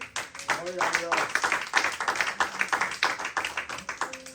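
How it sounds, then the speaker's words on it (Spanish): Dense crowd applause at a church service, with scattered claps and cheering, loud and sustained, with voices mixed in throughout. "Dale un aplauso a Cristo"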